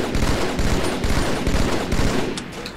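Battle rifle fire from the video game Halo 2, rapid repeated bursts of loud, punchy shots continuing without a break, with a few sharp high clicks near the end.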